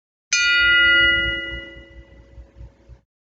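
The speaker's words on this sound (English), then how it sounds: "when you strike them or hit them, they can ring like a bell" A piece of pure metal is struck once and rings like a bell, a sharp loud strike that opens into a clear, bright metallic tone and then slowly fades away.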